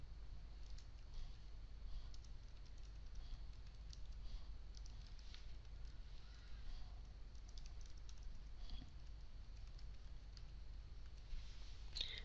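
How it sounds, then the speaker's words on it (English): Faint, steady clicking of keys on a computer keyboard, soft and continuous over a low background hum. "typing a name and description"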